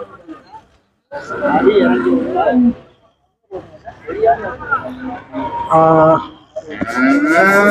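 Cattle at the Manapparai cattle market low in a few drawn-out calls, mixed in with people talking nearby in a busy outdoor setting.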